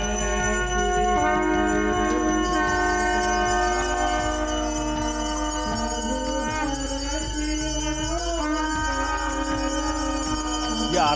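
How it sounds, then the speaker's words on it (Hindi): Temple bells ring continuously during an aarti with conch shells blown over them, a dense, loud, sustained metallic clang with long drawn tonal blasts layered throughout. "इतनी आवाज के बावजूद शंख बजाए जा रहे हैं, घंटी की आवाज आपको सुनाई पड़ रही होगी"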